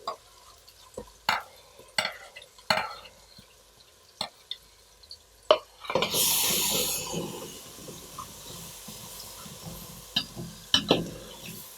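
Garlic ginger paste drops into hot oil in a pot while potato pulao is being cooked, setting off a loud, steady sizzle that follows earlier sharp clinks and stirring taps of a spoon, with no talk.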